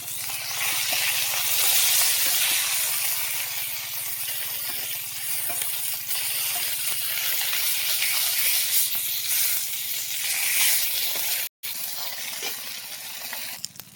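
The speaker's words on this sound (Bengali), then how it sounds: "মাছগুলো ভাজা হয়ে গেছে" Small fish (chara pona) frying in hot oil in a pan give off a steady, loud hiss and sizzle that runs almost unbroken, with one brief cut near the end.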